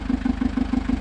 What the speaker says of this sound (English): we're just running the engine now, just making sure everything's good.